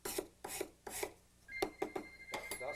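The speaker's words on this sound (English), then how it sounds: "Take your sanding stick, sand it down flat on the edges" Sanding stick rubbed across the edges of a gold ring to flatten them, a steady series of close, gritty strokes, about eight in under three seconds, with a faint high tone in the background.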